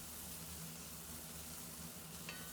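Onion and herbs frying in a pan over a low flame make a soft, steady sizzle, faint and continuous throughout. There is a slight stirring scrape near the end and no talking.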